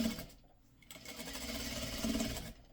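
A sewing machine stitching pieces of quilt fabric together, a faint, steady mechanical whir running for a couple of seconds, quiet and alone without talk.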